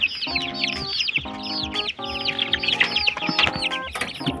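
Free-range chicks, some sick with coccidiosis, chirp densely in rapid high peeps, close and continuous, over lower clucking calls.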